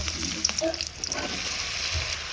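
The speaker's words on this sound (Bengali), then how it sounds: "ঢেঁড়স ভাজি করবো এখন" Okra frying in a pan in a home kitchen, a steady close sizzle with a few soft stirring clinks, no voices.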